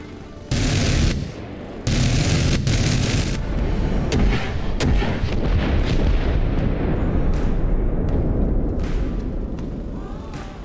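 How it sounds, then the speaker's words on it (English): In the video game Arma Reforger, an AH-6 helicopter unleashes booming bursts from a GAU-19 gun and rocket fire. Heavy, loud blasts give way to a dense, continuous roar of gunfire and explosions that slowly fades at the end. "this time we'll start off with the GAU-19 for some of the vehicles, and then we'll switch to rockets"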